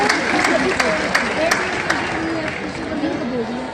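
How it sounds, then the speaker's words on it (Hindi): A crowd at a children's festival event applauds to welcome guests, with steady clapping mixed with murmuring chatter and a voice heard through it. "उनका जोरदार तालियों के साथ एक बार स्वागत किया जाए।"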